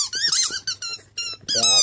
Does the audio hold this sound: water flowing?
no